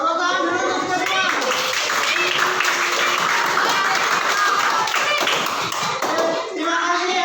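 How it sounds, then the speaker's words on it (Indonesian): A class of sixth-grade children clapping together in a classroom, sustained lively applause with some children's voices mixed in. "Tepuk tangan dulu untuk kita semua."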